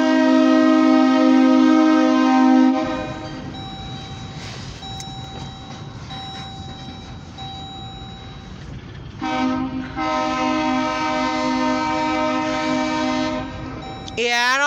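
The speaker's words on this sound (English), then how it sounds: "Listen to that horn." OC&T freight train locomotive horn near Titusville, Pennsylvania, blaring loud and close in two long sustained blasts, with rumbling rail noise filling the gap between them.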